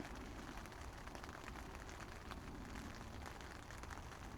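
Rain patters steadily on a tent fly sheet at a Cumbria campsite, a dense, even hiss of drops close overhead with no pauses, alone and without voices.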